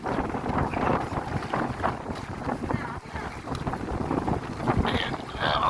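Stormy sea around a small moored boat, with choppy waves slapping and wind gusting across the microphone in an irregular, fairly close wash of noise, with occasional voices.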